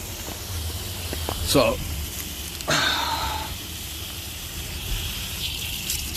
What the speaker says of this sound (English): just give it a good wash